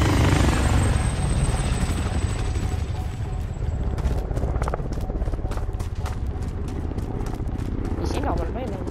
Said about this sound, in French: Alors lui, l'hélico,